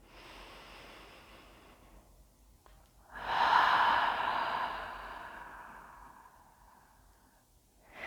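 Slow, deliberate breathing during a calm qigong session: a soft drawn-in breath followed by a longer, louder exhale that swells and gradually fades, close and alone with no talking.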